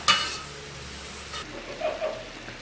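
Squid with peanuts and tempeh frying in a pan, stirred evenly, makes a brief bright sizzle that fades into softer frying with light scraping, short and close.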